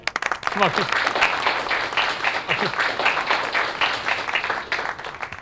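Classroom applause during a demo class, a steady patter of student clapping lasting the whole stretch, with voices mixed in.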